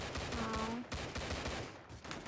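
Rapid gunfire in the Roblox game Silent Assassin, dense overlapping shots fired in quick bursts that fill the whole short stretch at steady loudness.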